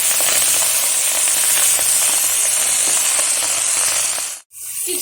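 Bottle gourd greens stir-frying in oil make a loud, dense, continuous sizzle and hiss close by, cutting out briefly near the end before resuming.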